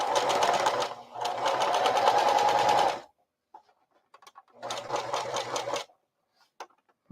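A sewing machine stitches tote bag fabric in two close, loud bursts of rapid mechanical whirring, about three seconds and then just over one second, separated by a quiet pause with small clicks.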